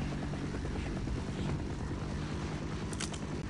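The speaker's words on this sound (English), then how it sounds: "It's a VTOL. Vertical takeoff and landing. V-22 Osprey." A V-22 Osprey VTOL aircraft in the video game Half-Life: Decay, heard as a steady, close, rhythmic rotor thump and engine drone with a faint voice underneath.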